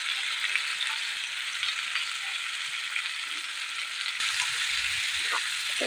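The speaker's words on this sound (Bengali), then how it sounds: "একটু ভালো করে ভেজে নেবো, কারণ আজকে হাড় থাকা মাংস খুব কম" Bone-in chicken pieces fry in a pan, giving a steady, close hiss of sizzling oil that carries on without a break, with a few faint clicks and soft knocks near the end.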